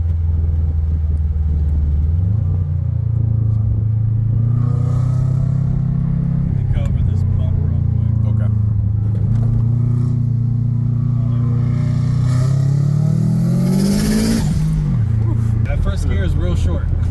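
A heat-soaked Subaru WRX with an automatic gearbox pulls hard from a standstill, its engine drone loud and close as the revs climb steadily and then surge near the end, with a voice talking over it.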